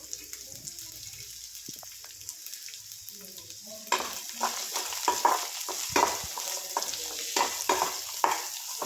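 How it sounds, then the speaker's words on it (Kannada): Onions frying in a pan with green chillies, a steady sizzle at first, then louder as stirring begins, with scraping and clinking of a utensil against the pan in uneven strokes. "ಈರುಳ್ಳಿ ಹಾಕ್ಕೊಂಡು ಅದನ್ನು ಫ್ರೈ ಮಾಡ್ಕೋಬೇಕು"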